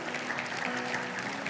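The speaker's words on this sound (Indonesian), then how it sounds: "Kasih tepuk tangan bagi Tuhan kita." A church congregation claps during a sermon, a brief, even wash of applause at moderate level filling the room.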